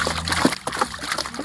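Water scooped out of a goat drinking trough gives short splashes and sloshing up close, with a brief liquid trickle.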